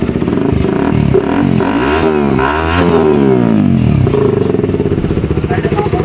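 A sport motorcycle engine revs up and down near by, its pitch swelling and falling in a couple of throttle blips before settling back to a rough idle clatter, with some low background voice.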